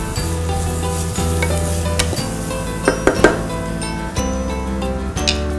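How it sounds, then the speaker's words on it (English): Onions sautéing in a pan for marinara sauce, a loud continuous sizzle with a low steady hum, a few utensil clinks and scrapes breaking through near the middle and end. "So now it's getting nicely sauteed here and we are making them nice and pink and translucent."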